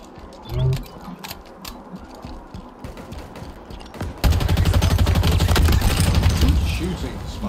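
Sporadic game gunshots in the shooter Halo Infinite, then a sudden sustained burst of rapid automatic fire that roars on for about three seconds before tapering, with a player's voice talking underneath.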